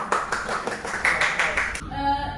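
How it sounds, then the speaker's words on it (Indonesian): Students in a microteaching classroom clap for a group, a short burst of rhythmic clapping that stops abruptly, followed by a brief tonal sound. "kita berikan tepuk tangan dulu untuk kelompok 2"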